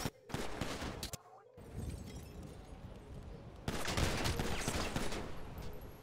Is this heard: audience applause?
no